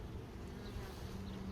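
Queenless honey bees buzz in an open hive, a continuous, close, low droning hum of many insects with no pauses.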